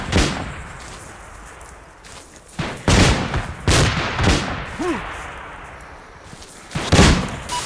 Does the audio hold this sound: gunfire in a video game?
yes